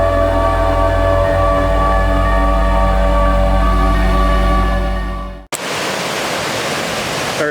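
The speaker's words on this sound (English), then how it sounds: "Our adventure starts here by this babbling river" A babbling river at Elkmont in the Smoky Mountains rushes in a loud, steady wash for several seconds before an abrupt cut to a different, quieter stretch of water noise.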